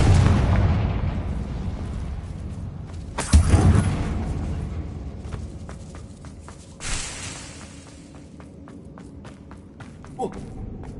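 A Confringo blast spell from a Harry Potter wizard video game booms once sharply, then a second smaller burst follows, with footsteps and light pops scattered around and a voice speaking over parts.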